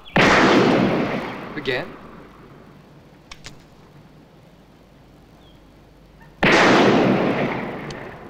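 Two loud gunshots ring out several seconds apart, each a sharp close blast with a decaying echo, and a voice speaks briefly between them.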